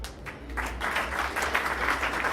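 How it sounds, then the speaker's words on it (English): Applause from an audience at a send-off event after a farewell speech: a moderate burst of clapping from a crowd that keeps up evenly at mid distance, with faint voices underneath. "A round of applause for Mr. Alan Jubin"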